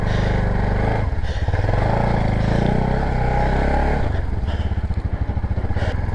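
A Bajaj NS200 motorcycle stuck on a forest trail, its engine revving loudly and close in a steady, strained drone, dipping briefly before surging again.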